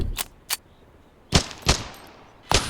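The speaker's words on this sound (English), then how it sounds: "Fire off a few shots at the targets" Gunshots fired at targets in the video game Dagger Directive: a handful of sharp, loud single reports, spaced irregularly with short silent gaps between them.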